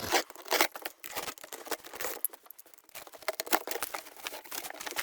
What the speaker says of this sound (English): I'm going to obviously put this on the bed base and unpack it, unwrap it